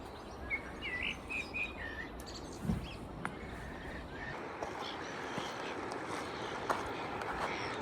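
Faint chirps from a few sparrows come and go over a steady outdoor hiss and distant rumble.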